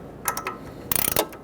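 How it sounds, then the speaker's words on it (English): An 18mm ratchet wrench turns the nut on a front sway bar link of a 2000-2007 Ford Taurus, giving a few separate clicks followed by a quick, close run of rapid ratcheting. "ratchet wrench for the nut"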